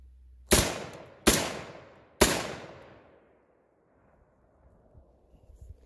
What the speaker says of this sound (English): I was gonna be shooting at that, guys.